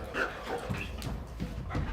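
A detection dog trained to find explosive and narcotic odors gives a few short yips and whimpers at close range, with some background movement and noise around it.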